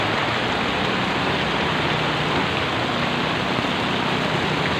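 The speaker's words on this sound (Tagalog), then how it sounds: "Lakas ng ulan" Heavy rain pours steadily during flooding in Paco, Manila, a dense, unbroken hiss of downpour that stays loud and constant with no pauses.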